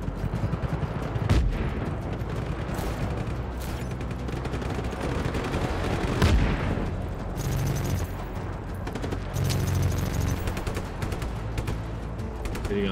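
A grenade blast in Just Cause booms out in the middle of a running firefight, with sharp deep bursts standing out against steady gunfire and rumbling battle noise, and little talk.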